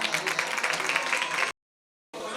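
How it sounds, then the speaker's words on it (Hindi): During a devotional stage play, an audience gives a dense, steady round of applause for about a second and a half. A short silence follows before the clapping resumes. "जोरदार तालियां।"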